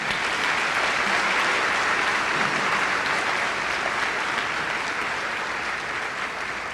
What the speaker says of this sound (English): can I get a round of applause for the faculty, the administration, and the teachers who have brought us to this point?